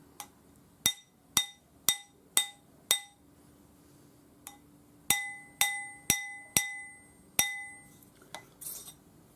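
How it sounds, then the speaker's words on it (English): A hammer strikes a metal ring on a steel ring mandrel to texture it, giving a string of sharp ringing taps, six evenly spaced, a lone one, then another quick run of five. "just put this back on your ring mandrel, use the hammer or whatever you use to make the pattern"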